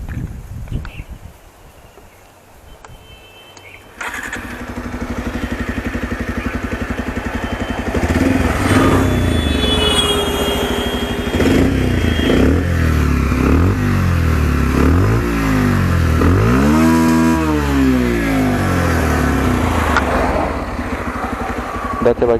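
A Bajaj Pulsar 125 BS6 top-model motorcycle starts after a quiet moment, settles into a loud, close idle, then gets a series of sharp throttle revs that rise and fall repeatedly.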